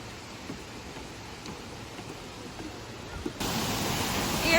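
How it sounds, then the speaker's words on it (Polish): A main waterfall gives off a steady broadband roar that swells louder and brighter near the end, as if heard from closer. "jesteśmy przy głównym wodospadzie"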